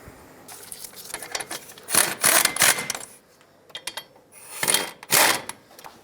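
Ratchet clicking in short bursts while snugging brake caliper bolts on a 2003-2009 Toyota 4Runner front brake job, two longer loud rattling runs separated by quieter clicks, close up with no talk.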